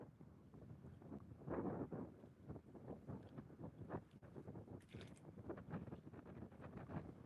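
Outdoor wind buffeting the microphone on a cold fishing outing, a steady low rumble with gusty surges throughout, loud and close, no speech.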